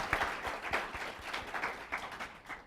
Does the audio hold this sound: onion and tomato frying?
no